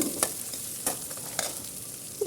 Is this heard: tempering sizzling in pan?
yes